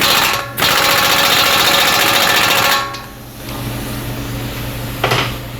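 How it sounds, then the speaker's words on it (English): Impact wrench fitted with a 140 foot-pound torque stick tightens a wheel bearing on a 2003-2015 Lexus GX470: a loud, dense buzzing rattle, a short gap, then a long sustained burst, followed by quieter rattling and a brief final hit. "I got a 140 foot-pound torque stick."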